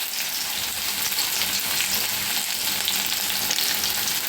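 Onions and carrots fry in a pan with a steady, dense sizzle that holds at an even loudness throughout, with no voices.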